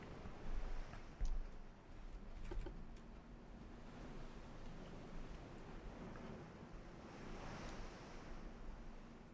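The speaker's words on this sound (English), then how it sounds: "Weather is good. Calm. Calm winds, calm waves." A naval warship battle game plays a calm sea scene: a steady, soft wash of ocean waves and light wind, faint and even, with a few small clicks scattered through it.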